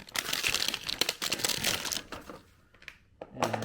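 Plastic packaging around a pair of left and right e-bike pedals is cut open and unwrapped, giving dense, close crinkling and crumpling for about two seconds, then a few sparse rustles and a short thud.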